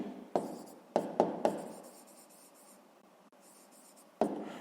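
Pen or pencil writing a sixth-grade math exercise by hand, a few sharp scratchy strokes in quick bursts with quiet gaps between, close and clear with no talk.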